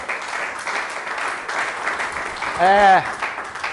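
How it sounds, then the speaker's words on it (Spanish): Church congregation applauding for the Lord during a sermon: a steady wash of clapping throughout, with a voice rising in a brief sustained call near the end. "Damos un aplauso fuerte al Señor"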